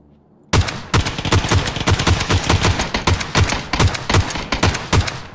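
Rapid bursts of M16 rifle fire in the video game PUBG, loud and close, with a steady series of sharp shots running through nearly the whole stretch after a brief quiet start.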